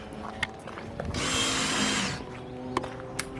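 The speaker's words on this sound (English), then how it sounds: "It's gonna be loud with the drill" A power drill whirs in a single burst lasting about a second during a van build, rising out of a quiet workshop background with a few sharp knocks before and after it.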